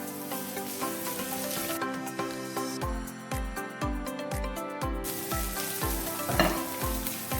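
Onions and green chillies fry in oil for anda ghotala, a steady sizzling hiss running beneath loud rhythmic background music with a thumping beat.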